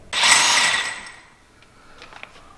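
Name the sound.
tool removing a bolt on a Can-Am X3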